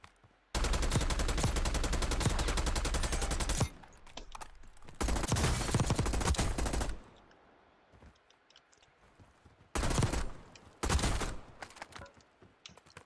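Bursts of AK rifle fire in the shooter game Warzone, first a long rapid stream, then a second sustained burst, later two short volleys, loud and close with quiet gaps between; no speech.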